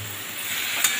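Bottle gourd fritter curry being stirred in a pan, a steady soft sizzle with scraping of the spoon, ending in a brief louder clink near the close; no voices.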